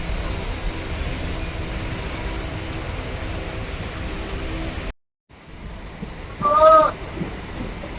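A Dumdum Cantt to Barasat local train rolls into Durganagar Road station with a steady loud rumble of wheels and rushing air, a brief drop in sound, then a short high squeal over the continuing run.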